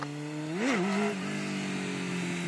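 Sportbike engine revving in an open field: a steady mid-pitched motor tone that jumps in a quick rev and drops back to a sustained idle-like drone, close and clear with no talk.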